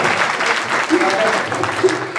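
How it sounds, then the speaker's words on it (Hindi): Audience applause at a Hindi comic poetry gathering (hasya kavi sammelan), a steady dense wash of clapping held at an even level for about two seconds, with faint voices mixed in. "दमदार भाई के लिए जोरदार तालियां होनी चाहिए"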